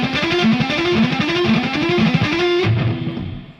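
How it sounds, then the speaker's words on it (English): Distorted electric guitar plays a fast, repeating inside-picking pattern, crossing strings in a steady looping rhythm before one final held note rings out and fades, with no voices. "what I want to show you is something called inside picking."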